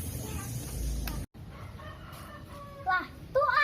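A person imitates a rooster's crow during a chicken-sound contest, the strained crowing calls coming near the end after a stretch of noisy background and a brief dropout.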